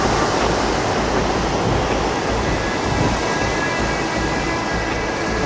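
A mountain stream on the Kinnaur Kailash trek rushes and roars in a dense, steady wash of water noise, loud and close, unbroken throughout with no voices.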